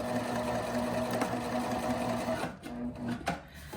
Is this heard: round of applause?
no